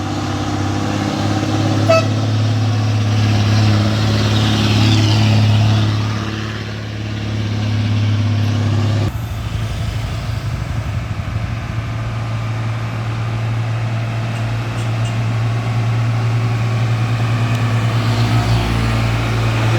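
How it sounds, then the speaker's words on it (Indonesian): A tow truck's heavy engine drones on a steep hill road, with a low steady rumble that shifts midway and a brief horn toot early on. "Ini dia mobil dereknya."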